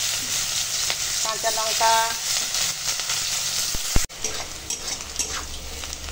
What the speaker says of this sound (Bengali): ওই তেলে পেঁয়াজ ভেজে নেব